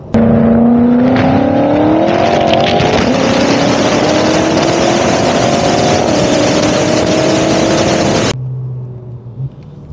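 BMW M5 F10 Competition accelerating hard while overtaking, its engine note climbing steadily in a loud, close roar for about eight seconds before cutting off abruptly to a quieter idle hum.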